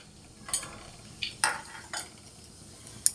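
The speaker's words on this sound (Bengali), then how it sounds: "আর প্রথমে আমি এই চিনে বাদামগুলো ভেজে নেব তেলে, তারপরে আমি সবজিগুলো ভাজবো। চিনে বাদামটা দিয়ে দিচ্ছি কড়াইতে।" Peanuts in hot oil in a wok being stirred with a metal utensil: a few sharp scraping clinks against the pan over a soft, faint sizzle, close by, with no talking.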